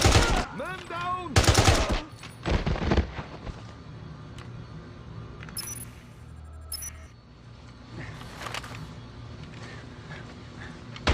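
Rapid automatic gunfire in the James Bond 007 Blood Stone video game, loud bursts in the first few seconds then sporadic distant shots and impacts over a low ambient rumble, with shouting voices early on.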